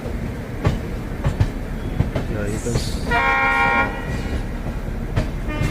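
A diesel train engine rolls past a platform on the line toward Rewari junction, its horn sounding in a sustained blast midway over rumbling wheels and clicking rails, while a person speaks briefly.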